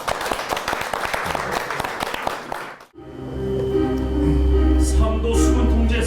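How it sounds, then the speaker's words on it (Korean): An audience in a studio claps loudly for a musical theatre lead for about three seconds. The clapping stops abruptly and a sustained orchestral music passage begins. "여러분 큰 박수로 다시 청해 보겠습니다"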